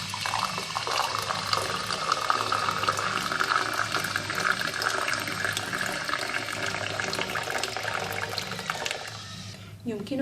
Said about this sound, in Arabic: نضيف الماء الساخن.